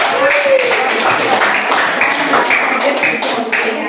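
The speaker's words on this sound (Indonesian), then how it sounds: "Kita berikan tepuk tangan dulu untuk kelompok 4" A classroom group claps for group 4 in a dense, even patter of hands that carries for several seconds, with a voice speaking over it.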